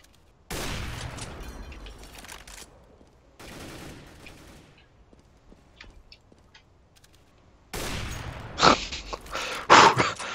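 Distant gunfire from a CS:GO match heard through a player's microphone, coming in separate bursts between quiet gaps, with sharper, louder shots near the end.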